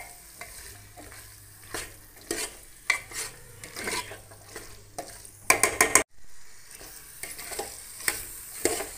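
Soaked chickpeas sautéed in a pan, a spoon scraping and stirring in repeated strokes over a light sizzle, with a cluster of sharp metallic clinks near the end and no talking.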